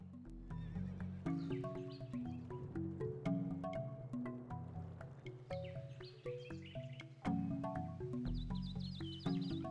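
Horses neigh and whinny in the strategy game Civilization 4, with hoof clip-clops, set over soft game music; the calls repeat several times, fairly close, with no talking.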